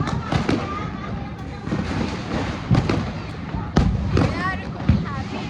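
Diwali firecrackers set off during a family celebration: a run of sharp, loud bangs and crackling bursts at irregular intervals, with people talking and calling out between and over the blasts.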